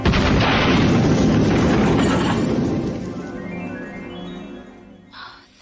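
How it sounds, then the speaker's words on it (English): A loud explosion in a lab, used as a sitcom sound effect, bursts out as a heavy, rumbling blast that slowly rolls off over several seconds, ending in a brief faint rattle. "I heard a loud explosion."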